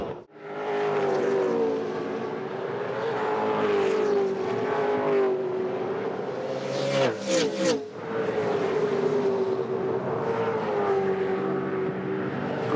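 V8 Supercars in the 2005 Bathurst 1000 race, with a loud, sustained engine roar from cars battling closely for the lead, pitch rising and falling through gear changes, and a brief sharp burst of higher-pitched noise midway.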